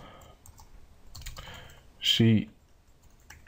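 Light clicking of a computer keyboard as VBA code is typed into Excel, with quiet, scattered keystrokes and a short spoken word partway through.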